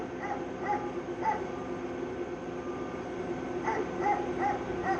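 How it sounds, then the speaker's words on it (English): Repeated dog barks in two short clusters, somewhat distant, over a steady low rumble from an asphalt milling machine engine. "All right, dog, I get it. You don't like me making noise."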